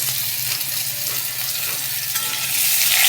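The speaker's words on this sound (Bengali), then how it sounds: "কলা আর আলু একসঙ্গে ভাজবো ভালো করে।" Potatoes and green bananas fry in oil with a constant bright sizzle, close and steady, growing slightly louder toward the end.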